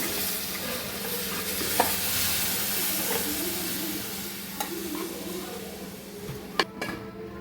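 Pepper liver fry is stirred in a hot pan: a continuous close sizzle and hiss of frying, with occasional sharp scrapes and clanks of the spoon against the pan.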